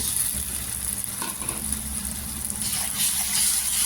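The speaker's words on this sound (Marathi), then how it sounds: "हे वाटण छान असं तेलावर परतून घ्यायचं" Masala paste frying in oil in a home kitchen pan, a steady bright sizzle running continuously throughout, close and moderately loud with faint stirring.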